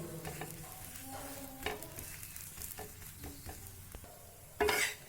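Keerai chapathi cooking in a little sesame oil on a pan, a soft, quiet sizzle broken by clinks and scrapes of a utensil turning and pressing it, with a louder scrape near the end.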